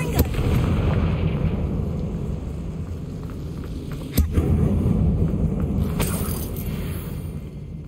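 A Confringo fire spell explodes inside an abandoned mine in the video game Hogwarts Legacy, a loud sustained rumbling blast with sharp cracks partway through.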